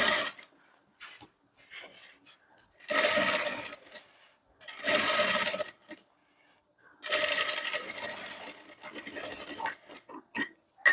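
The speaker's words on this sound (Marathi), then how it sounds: "फोल्ड करण्याआधी आपल्याला दाब शिलाई देऊन घ्यायची अस्तरवरती" A sewing machine stitches a blouse lining in three loud, whirring runs of a second or two each. Quiet pauses with faint handling clicks and taps separate the runs, and no one talks.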